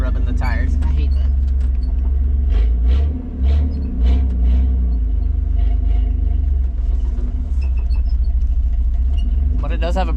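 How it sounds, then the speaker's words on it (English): A Chevrolet S10 pickup truck rolls along with a steady low engine rumble and an uneven scraping from the bed rubbing against the tires, while people talk over it. "Oh yeah, that's the bed rubbing the tires. I hate that."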